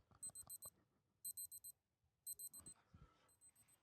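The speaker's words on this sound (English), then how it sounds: "That beeping is from the timer." Quick bursts of high electronic beeps repeat in groups of four, about once a second, from a Casio G-Shock GD-010 digital watch timer, with faint background rustling.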